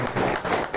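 Audience applause at a welcome ceremony for dignitaries, a brief dense wash of steady clapping from a crowd.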